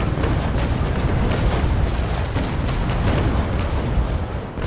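Ship cannon volley firing in the naval battle game Naval Action, a dense, continuous rolling roar of heavy booms that stays loud and sustained throughout, with no talk over it.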